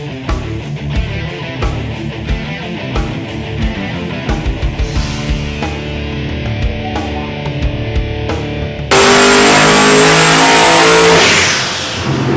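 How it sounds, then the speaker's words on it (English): Nelson Racing-built twin-turbo 515 engine in a 2000 HP Pontiac Tempest street car, running at 6 PSI boost: a loud, sustained rumbling rev that surges to a harsher, louder roar near the end, with no talking. "Pontiac Tempest, Nelson Racing built twin turbo 515, boost is set at 6 PSI right now"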